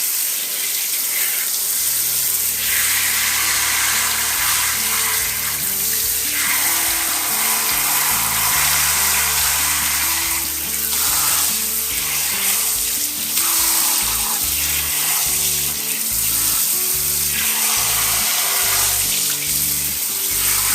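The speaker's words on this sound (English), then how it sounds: "So now I'm kind of rinsing off" Naturally dyed fabric samples, one with an alum mordant and weld dye, are rinsed under a running tap, giving a steady close rush of water that continues without a break and with no talking.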